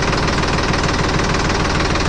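A Sonalika 745 III tractor engine runs steadily at a fixed throttle, a loud, continuous diesel idle with an even knocking pulse and no voices over it.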